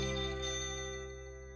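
A telephone rings with a steady, bright electronic tone held throughout, loud and close, slowly fading toward the end, with no talking over it.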